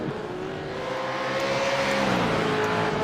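A race car in the iRacing sim game hums at a steady pitch while it struggles to get into gear at the line, a moderate, continuous whir with a slow pitch glide and no voices.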